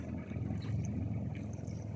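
A departing motorboat's engine drones steadily at a low pitch, moderately distant, with no voices.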